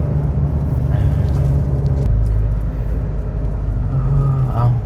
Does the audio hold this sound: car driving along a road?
yes